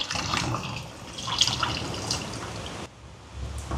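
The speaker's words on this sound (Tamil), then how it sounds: "இதோட முதலாம் பால் சேர்க்குறேன்" First coconut milk poured into a crab curry with tamarind, a steady watery pouring and splashing sound close by with a brief dip partway, no talking.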